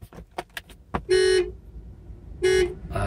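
Two short, loud honks come from the horn of a 2001 Hyundai Terracan 4WD with a manual gearbox, separated by a pause of over a second, with quieter clicks and movement sounds in between.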